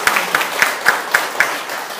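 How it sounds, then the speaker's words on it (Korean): A small audience at a local talk event about Gangchon in Chuncheon claps in a sparse, slow rhythm, about six distinct nearby claps in two seconds. "우리 박수 한번."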